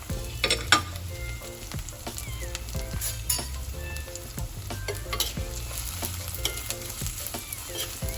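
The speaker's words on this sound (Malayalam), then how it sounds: "ഇത് നന്നായിട്ട് വഴറ്റിയെടുക്കണം. ഒരു ഗോൾഡൻ കളർ ആവുന്നത് വരെ നമുക്ക് നന്നായിട്ട് വഴറ്റിയെടുക്കാം." Shallots, garlic, green chili and curry leaves sauté in oil for a Kerala fish curry, giving a continuous close sizzle broken by repeated scraping stirs and light clinks of the utensil.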